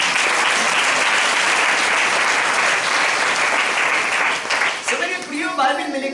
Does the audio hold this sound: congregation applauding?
yes